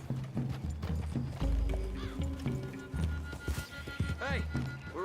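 Horses trot with a steady clip-clop through a forest clearing in a cowboy video game, hooves close and loud under voices talking and a musical score, with a brief whinny near the end.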